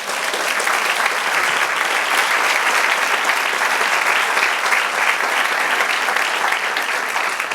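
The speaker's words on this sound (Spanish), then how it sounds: "Del aplauso al Señor." A church congregation applauds steadily during a Spanish-language evening sermon, a dense and even wash of many hands clapping at full strength for the whole stretch, with no voices over it.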